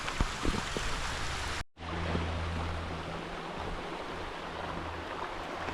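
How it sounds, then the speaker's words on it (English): Water from a brook runs down a stream in Shenandoah National Park in winter, a steady broadband rushing wash that is cut by a brief dropout, then resumes alongside a low hum. "A little more of the brook coming down the stream."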